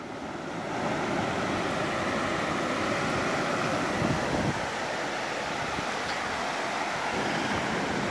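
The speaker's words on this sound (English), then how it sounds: "show you the waves coming in" Ocean waves wash onto a beach at night in a steady, broad roar of surf with some wind noise on the microphone, continuous and fairly loud throughout with no talking.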